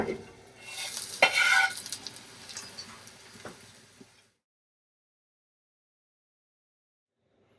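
Garlic stirred around in an olive-oil frying pan gives a brief close sizzle and scraping that swells for a moment, then fades out after about four seconds into silence.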